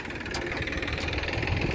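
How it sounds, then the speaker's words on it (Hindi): A tractor engine idles at a site where narrow-gauge railway track is being torn up, giving a steady, close, continuous rumble with no talk. "ये देखिए इस ट्रैक्टर में भरे जाएंगे"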